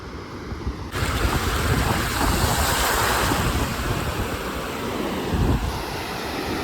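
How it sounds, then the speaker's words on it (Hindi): Sea waves wash steadily onto the beach at Mandarmani, a loud continuous surf roar mixed with strong wind buffeting the microphone, with no voices. "ये आ गए हम लोग एकदम समुद्र के पास।"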